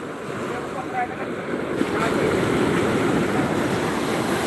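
Sea waves and wind at a beach in Aceh at dusk, a broad roar of surf and gusting wind buffeting the microphone, growing louder midway, with a voice faintly audible underneath.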